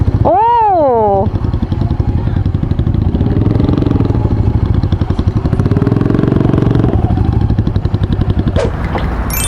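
Motorcycles pass on a road near Yongin, heard from a rider on a Meteor 350, with a steady loud engine drone and clatter throughout and a short rising-and-falling tone near the start.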